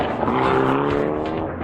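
A rally car charges past on a Malaysian rally stage, its engine snarling loud and close in a brief steady burst with a slight pitch sweep as it goes by.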